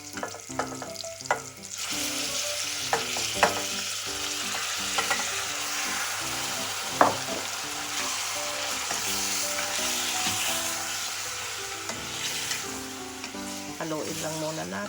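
Beef goes into a pot of hot red onions and sizzles steadily, with scattered clinks and stirring scrapes from a utensil over a continuous frying hiss, and some background music throughout.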